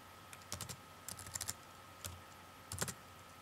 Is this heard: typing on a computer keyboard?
yes